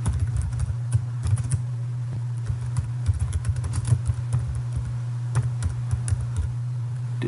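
Typing on a computer keyboard while entering a discussion title, a steady run of close key clicks over a constant low hum, with no speech.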